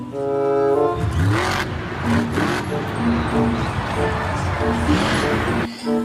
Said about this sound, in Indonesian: ada yang besar sekali ini teman-teman, warna biru, mobil Jeep off-road